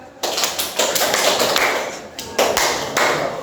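Hands clap in short groups and bursts, with brief pauses between sets, fairly close and loud.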